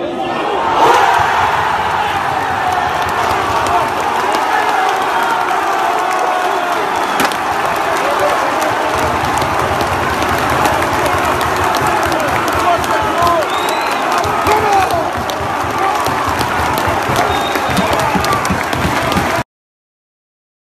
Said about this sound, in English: He's cheering up the crowd, it means a lot to him!